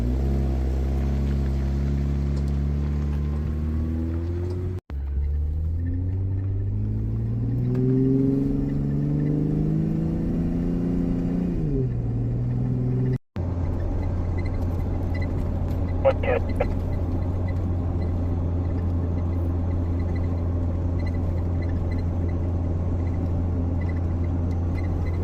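A car pulling away on a road in Cape York: the engine note climbs through several gears, with two brief breaks at the shifts, then settles into a steady cruising rumble up close.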